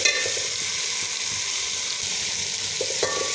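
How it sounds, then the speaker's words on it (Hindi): Ginger-garlic paste with tomatoes and vegetables frying in a pan gives a loud, steady sizzle throughout, with occasional stirring scrapes and no voices. "अब हम इसको जो है वो थोड़ा सा फ्राई करेंगे।"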